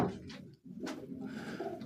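Pigeons in a pigeon house give faint, soft coos and rustles, quiet and close, with a brief knock partway through.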